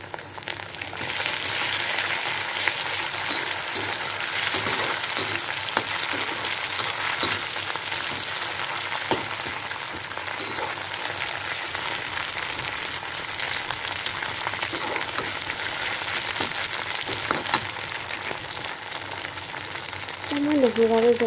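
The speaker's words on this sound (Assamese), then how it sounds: "এয়া মোৰ পিঁয়াজ ভাজা হৈ গ'ল অলপমান ৰংচুৱাকৈ ভাজিছোঁ" Chopped onions fry in oil in a pan for a fish-head and taro-stem dish, giving a steady close sizzle with occasional stirring scrapes throughout; there is no clear speech.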